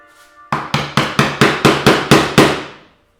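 A hammer strikes wood pieces during garage teardown work, nine sharp evenly spaced blows landing about a quarter second apart, each loud and close with a short ringing decay.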